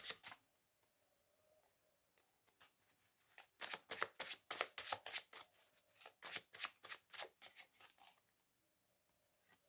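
Handmade tarot cards are shuffled close up in quick bursts of crisp riffling and flicking, separated by short quiet pauses.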